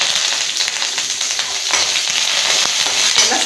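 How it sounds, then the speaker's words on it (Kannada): Chilli, ginger, garlic and curry leaves fry in a pan with a loud, dense, continuous sizzle, and occasional stirring clicks sound close up. "ಎಲ್ಲ ಸ್ವಲ್ಪ ಫ್ರೈ ಆಗಲಿ."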